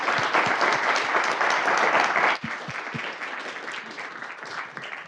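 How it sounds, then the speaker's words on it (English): A forum audience applauds Dr. Anderson with dense, continuous clapping that stays loud for a couple of seconds, then thins and softens as it tapers off. "let's give Dr. Anderson a big round of applause"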